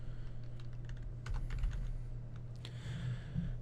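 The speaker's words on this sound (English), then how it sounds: "So if I'm on the start screen and I just start typing on my keyboard" Rapid typing on a computer keyboard, a close flurry of light key clicks over a steady low hum.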